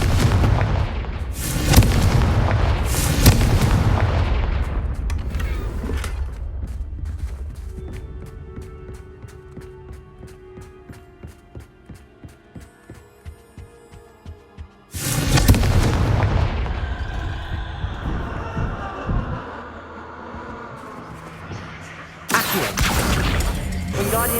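Fiery explosion spells cast in Hogwarts Legacy, with loud booming blasts at the start, a quieter stretch of crackling and rhythmic mechanical ticks, then another heavy explosive burst and rumbling aftermath near the end.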